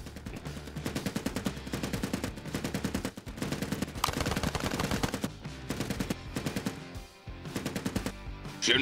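Sustained bursts of machine gun fire in a video game, loud and close, with rapid rhythmic shots broken by brief pauses.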